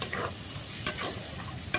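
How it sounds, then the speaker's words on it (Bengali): Snail curry being fried and stirred in a pan, a soft steady sizzle broken by two sharp clinks of a spoon against the pan, close up with no talk. "এই গেরাটা যে ভেজে রেখেছিলাম এটা দিয়ে দেব, দিয়ে আবার ভালো করে কষিয়ে নেব"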